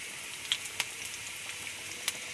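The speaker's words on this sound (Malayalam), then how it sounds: "കറിയൊക്കെ തളച്ചു ഉള്ളി മൊരിഞ്ഞു വേപ്പിൻ്റെ ഇല ഇടുന്നു" Onions and curry leaves sizzle in hot oil in a clay pot for tempering, making a soft steady crackle with a few sharp pops, close and fairly faint.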